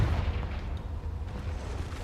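A Confringo fire spell going off in Hogwarts Legacy, a heavy, rumbling blast with a sustained low boom that fills the whole moment at close range.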